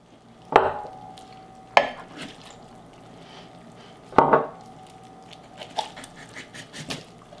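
Sauerkraut is dumped into a crockpot over onion, making a few separate wet thumps and brief clatters against the pot, with soft rustling between them.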